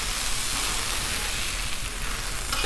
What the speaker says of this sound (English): the chorizo's just about done. Let's give this a flip